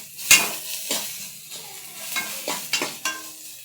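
Onions frying with green chilies in a pan, soft sizzling under several close scrapes and stirring knocks of a utensil against the pan, with no voices.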